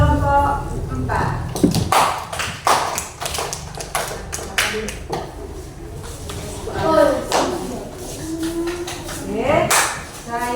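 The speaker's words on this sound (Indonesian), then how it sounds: "Tepuk tangan untuk kelompok 4" Applause for group 4 in a classroom, with scattered claps and taps between bursts of a voice talking, and a few louder clapping flurries toward the end.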